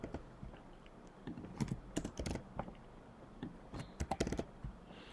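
Rapid, irregular typing on a computer keyboard with an Arabic layout, sharp clustered keystrokes in bursts with short pauses, close and fairly quiet, no talking.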